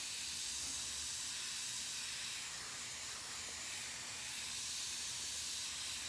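An airbrush spraying paint onto a hoodie gives a steady, unbroken airy hiss at low-to-moderate level, continuous for the whole stretch with no pauses or talking.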